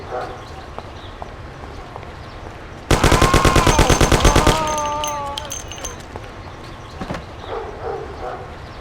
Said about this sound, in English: Lord, it's shooting here.